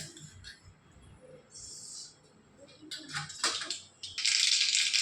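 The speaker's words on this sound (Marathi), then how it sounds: "तेल गरम झालं की त्याच्यामध्ये सगळ्यात आधी आपण मोहरी टाकणार आहे" Mustard seeds go into hot oil for a tempering, bursting into close, bright crackling and spattering pops that grow louder and denser toward the end.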